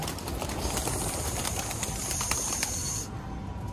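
Racing pigeons from a loft take off into the open air, with a faint flutter of wings and soft cooing over steady outdoor hiss.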